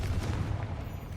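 A Confringo fire spell explodes in the Hogwarts Legacy video game on Xbox Series S as a short, dense burst of rumbling blast noise, loud and close.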